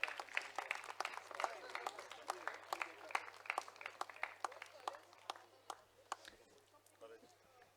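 Applause from a debate event audience for a prize winner, a crowd clapping in a dense patter that thins toward the end, recorded fairly quietly over a low steady hum.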